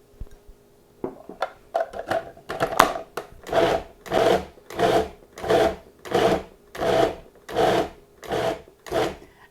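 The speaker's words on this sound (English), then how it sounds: "add this cheese directly in the food processor with the ham" A food processor chopping ham and cheese for ham salad, starting with a few irregular bursts and then settling into steady evenly spaced pulses, each a short loud whirring chop, close up with no talking.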